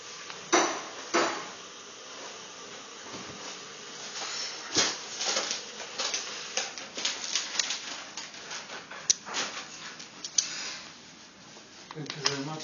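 M3 screws, 25 mm long, and washers are fitted loosely by hand on a Sub33D 3D printer frame. Small metallic clinks and taps come at irregular moments, close by, under ongoing talk.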